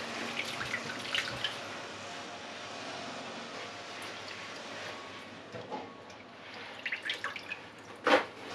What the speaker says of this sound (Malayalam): ഇനി ഇത് ഈ വെള്ളത്തിൽ നിന്ന് കഴുകി വാരി എടുത്ത് മാറ്റി വയ്ക്കാം.